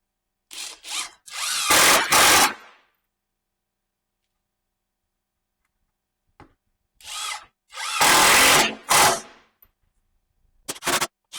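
A power drill drives 2-inch screws through three layers of plywood in two separate bursts, each a loud close whine that rises as the screw bites, with silence between them.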